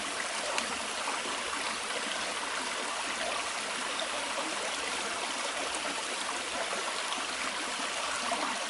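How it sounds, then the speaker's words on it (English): Water trickling steadily into a pouch through a pre-filter, a continuous close rushing flow with no pauses. "This is going to fill up my aqua pouch with water."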